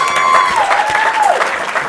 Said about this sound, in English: let's give all of our 2018 President's Club honorees another round of applause